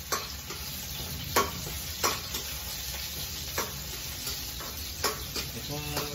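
Garlic fries in a pan under a steady close sizzle while a utensil stirs and scrapes it, making several sharp clacks and scrapes against the pan, with no talking.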